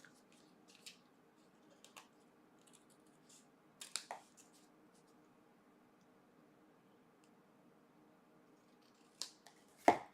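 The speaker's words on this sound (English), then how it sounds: "you're going to flip it over and just trim up the sides." A paper card strip is trimmed along its sides with a handful of quiet, sparse snips and crisp ticks against near silence, the loudest cut coming right at the end.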